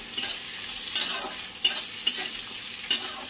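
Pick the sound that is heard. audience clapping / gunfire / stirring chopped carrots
stirring chopped carrots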